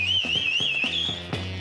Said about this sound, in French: Siffle pour prévenir les détenus.